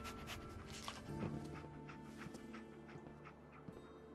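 A dog pants steadily in quick, rhythmic breaths in the video game Fallout 4, over a busy background of game ambience and faint music.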